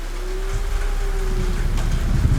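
Steady, dense rain falls throughout in the Dark TV series opening credits, with boots marching in step, a loud continuous wash and a faint low tone running beneath it.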